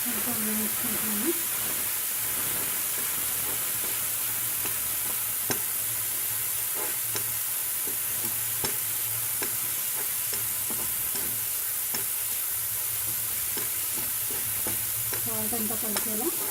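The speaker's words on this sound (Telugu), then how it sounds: "మురమురాలు కొంచెం వేయించుకుంటున్నాను." Puffed rice (muramuralu) roasting and being stirred in a pan for uggani, giving a steady, quiet sizzle with scraping stir strokes throughout, close by, while someone talks intermittently.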